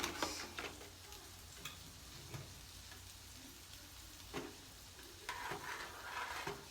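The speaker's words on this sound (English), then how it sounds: "So you put it in there, stir it around, let it melt down." Vegan cheese stirred as it melts in a pot for vegan mac and cheese, heard as a faint, steady low sizzle with occasional soft scraping strokes and light clicks, no voices.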